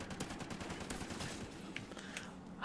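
Gunfire in Call of Duty Ghosts, a quick series of fairly faint shots fading over a couple of seconds, followed by a sudden loud burst at the very end.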